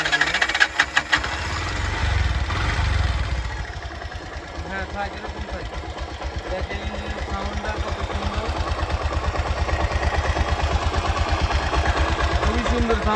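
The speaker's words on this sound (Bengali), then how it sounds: "এখন ইঞ্জিনের সাউন্ডটা একটু শোনায় দিই আপনাদেরকে" A used CNG auto-rickshaw engine runs steadily at close range, a rapid mechanical chugging that starts rough and settles into an even idle throughout.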